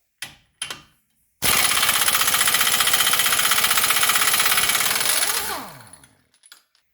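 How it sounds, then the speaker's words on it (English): Impact wrench removing the 30 mm axle nut on a 2005 VW Golf 1.9 TDI, with a couple of short clicks, then a loud rapid hammering burst for about four seconds before winding down, followed by faint clinks. "Let's go ahead and remove the axle nut."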